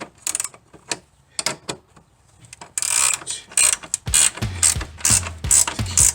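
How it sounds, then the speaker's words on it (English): A ratchet clicks in quick bursts as strut mount bolts are snugged down on a third-generation Camaro Z28 during a front coil spring replacement, with repeated close, crisp ratcheting strokes separated by brief pauses. "we're going to tighten these down just enough"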